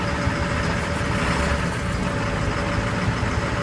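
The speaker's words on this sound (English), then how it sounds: "Gotta love a diesel." A 7.3 diesel engine in a 2000 Ford F350 ambulance idles after a cold start, a steady rough clatter and rumble, moderately close and unbroken, with no talk.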